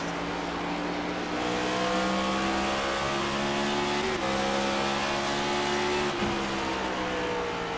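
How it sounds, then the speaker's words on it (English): A race car engine in a racing video game at Richmond Raceway whines steadily at high revs, with a couple of quick downshift blips and pitch drops, loud and continuous. "I think I just heard a hint of a downshift."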